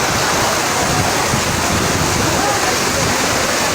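Fast-flowing floodwater rushes down a main street in Karachi, a loud, steady roar of churning water filling the whole scene with constant broadband noise and no pauses.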